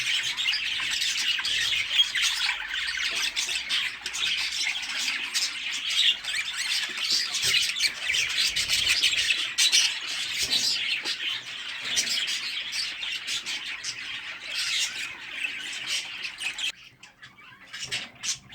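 A young rainbow budgerigar with a crossed beak chirps and squawks continuously in a busy, high-pitched stream of calls, close and fairly loud throughout with no talking.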